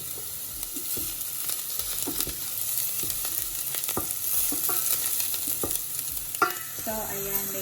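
Garlic and ginger fry in a pan, giving a steady, close sizzle broken by frequent clinks and scrapes of stirring.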